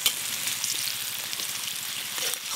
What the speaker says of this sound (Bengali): তেলের মধ্যে সাদা তিল আর চিলি ফ্লেক্স বেশ ভালো করে নেড়ে নিয়েছি।